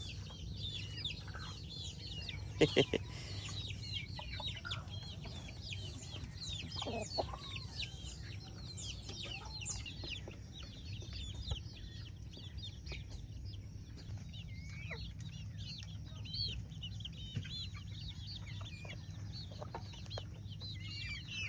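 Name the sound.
chickens clucking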